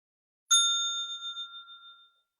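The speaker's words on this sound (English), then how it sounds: "once I find my other singing bowl, but I'm going to go ahead and do this and just listen to" A singing bowl struck once, giving a bright metallic strike that rings on with a shimmering, wavering tone and fades away over about two seconds, close and alone.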